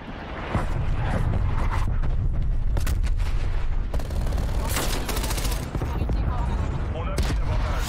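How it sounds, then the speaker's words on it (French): Artillery strike called in during a Call of Duty Black Ops Cold War match: a continuous barrage of explosions and rapid gunfire fills the scene, loud and dense, with a voice speaking over parts of it. "Allez, on va faire un petit artillerie. Je marque les cibles pour l'artillerie."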